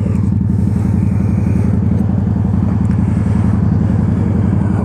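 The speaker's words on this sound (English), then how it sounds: "riding the motorcycle too" A Honda Shadow Ace 750 motorcycle on an evening ride, its engine a steady, loud, throbbing low rumble with a rapid regular pulse, close and continuous without talk.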